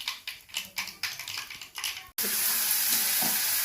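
Pirandai (adamant creeper) being tempered in a pan on a home gas stove. First come quick rhythmic stirring scrapes, then a sudden loud, steady sizzle as the pan hits hot oil, close and without talk.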